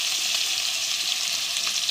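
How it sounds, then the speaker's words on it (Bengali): Sliced onion and green chillies fry in hot oil, producing a loud, close, continuous hiss and crackle with no pauses from start to finish. "এবার গরম তেলে আমরা পেঁয়াজ মরিচ ভেজে নিচ্ছি।"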